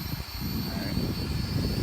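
A Holy Stone X400 quadcopter drone flies in gusty wind, giving off a steady, thin whine over a continuous rumble of wind noise.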